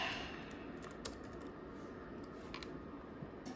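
Someone types on a computer keyboard while setting up a Windows install, quick irregular key clicks close by with a louder tap now and then and no speech.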